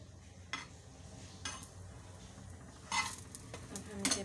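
Shahi sweet bread fries in a pan on a low flame, a faint soft sizzle with occasional light clinks and scrapes of a utensil against the pan.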